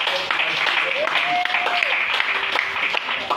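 A church congregation applauding the Lord, sustained dense clapping with cheering voices and some speech over it throughout.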